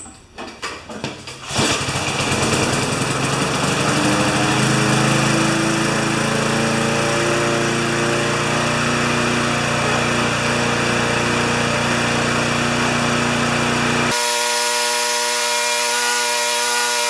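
Older twin-cylinder Briggs & Stratton lawn mower engine catching after a brief rough start, then running steadily and loudly up close with a constant drone that cuts abruptly to a thinner, quieter tone near the end.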